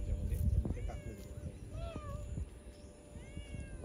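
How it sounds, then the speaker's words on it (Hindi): A cat meows several times in a rising, drawn-out way at a fishing village waterside in Pandharpur, heard close over outdoor ambience with background activity and some distant voices. "बिल्ली आ गई यहाँ पे।"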